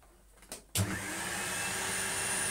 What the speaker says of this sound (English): it is a beautiful sounding motor. Oodles of suction.